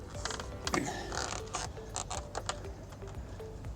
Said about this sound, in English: you're going to hear a little bit of ugly kind of creaking noise, but you just want to kind of apply some pretty firm pressure till you hear it snap on